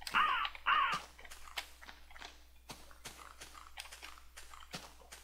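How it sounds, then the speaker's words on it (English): Harsh crow-like caws from blackbirds in Minecraft, two loud calls at the start, then a quieter run of scattered clicks and short chirps. "Even the blackbirds, they even sound like crows."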